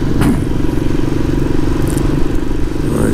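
A motorcycle engine drones steadily and loudly while climbing the steep mountain road up Mount Teide in Tenerife, close and constant with faint clatter.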